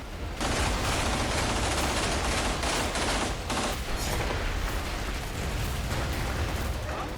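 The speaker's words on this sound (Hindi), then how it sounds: "कहीं इमारतों में छिपकर ताबड़तोड़ गोलीबारी जारी है" Heavy, sustained gunfire during fighting in Gaza, loud and dense with rapid overlapping shots and blasts that roll on without a break.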